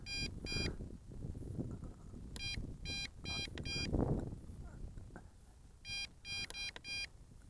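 Repeated bursts of high electronic beeping from a drone controller warning, in clusters of two and three, over wind and outdoor rumble.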